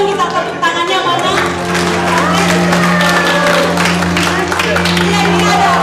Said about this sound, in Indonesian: Sama-sama dong kita tepuk tangannya mana?